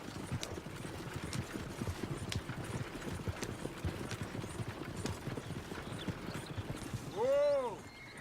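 Horse hooves clip-clopping at a steady rapid pace in the Western video game Red Dead Redemption, continuous under the action, ending with a loud whinny from the horse.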